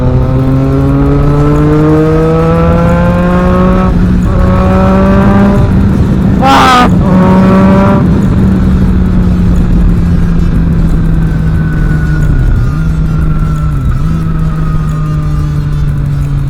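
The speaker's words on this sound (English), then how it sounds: "this particular bike deserves a massive salute because of the amount of power it has." A Triumph Daytona 675 motorcycle engine under riding, a loud steady drone with rising and falling gear pitch, revving up through gears, a brief blip of throttle midway, heavy wind rush throughout.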